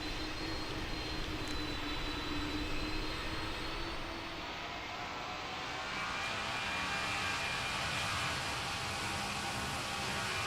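A simulated airliner in Pilot Training Flight Simulator roars steadily with broad jet engine noise as it takes off, fairly quiet and constant and heard alone without voices.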